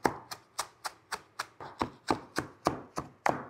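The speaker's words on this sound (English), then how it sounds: "all I'm going to do is roughly chop some spinach, about a cup" Spinach is roughly chopped on a cutting board, about a dozen crisp, evenly spaced knife strikes in a steady rhythm, close and clear with no talking.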